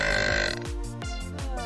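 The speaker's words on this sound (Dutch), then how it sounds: "En dat is een boer." One long, deep, throaty burp rolls out in a steady pulsing stretch, close and fairly loud, its pitch sagging and wobbling in a few lurching steps before it ends.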